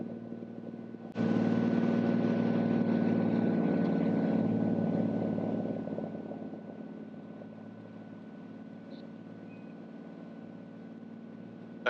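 A Cirrus light aircraft touching down and rolling out, a sudden loud broadband engine and wind roar from inside the cabin that slowly fades to a steady lower drone, with no talking.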